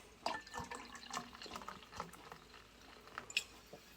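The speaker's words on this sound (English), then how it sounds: "So we'll go with the Topo Chico mineral water, and then you're gonna go about half with that" Topo Chico mineral water poured into a drink, a faint close trickle with light fizzing and a few small splashes and drips, soft and without talking.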